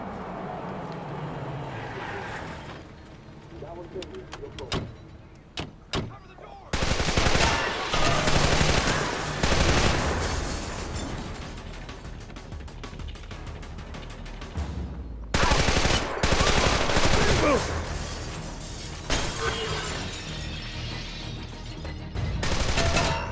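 Sustained automatic gunfire in a Splinter Cell: Conviction firefight, long dense bursts with short lulls and scattered single shots, loud and close, with voices occasionally under it.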